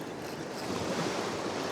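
Ocean waves breaking on a Western Australian beach, a steady broad wash of surf with wind noise, continuous and moderately loud without distinct individual crashes.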